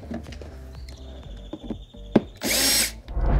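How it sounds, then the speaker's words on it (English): A power drill whirs in short bursts close up while driving out T15 screws on a 2022 Tesla Model Y, with small clicks and handling noise between the runs. "You can use a power tool to accelerate the process"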